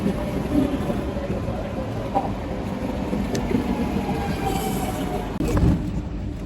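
A train pulls into a station in the Netherlands, giving a loud continuous rumble with some clatter and a sharp clunk near the end, heard from close by on the platform.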